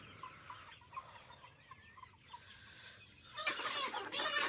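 Sonali chickens on a poultry farm cluck softly and steadily while being caught for sale, then break into a louder, agitated flurry of squawks and flapping near the end.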